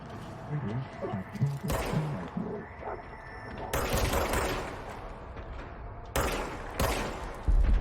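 A handgun in the game Control fires in loud, sharp bursts, four separate volleys cracking out over a murmuring, rumbling background, with brief quiet stretches between shots.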